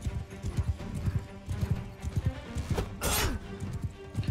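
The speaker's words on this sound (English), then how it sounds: "Horse archers charging." Massed horse hooves pound in a rapid, continuous clip-clop as cavalry charges in the video game Mount and Blade II Bannerlord, with a bright crashing burst midway.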